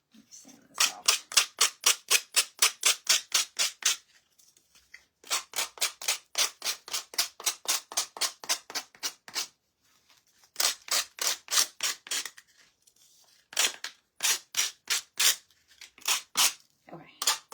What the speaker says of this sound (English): Let me sand this off.